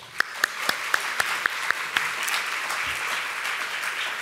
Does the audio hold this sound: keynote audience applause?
yes